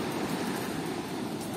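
Sea waves wash steadily on Dublagadi beach at night, a continuous broadband roar of surf with no clear breaks and wind noise mixed in.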